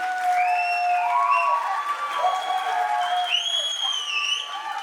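An audience claps after a minister's speech, a sustained wash of applause with some crowd noise and whistle-like tones layered over it, steady and moderately loud throughout.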